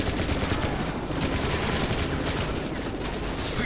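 Rapid gunfire crackles in Call of Duty: Modern Warfare 3 during the mission Back on the Grid, with dense overlapping automatic bursts and sharp shots filling the whole stretch at a loud, steady level.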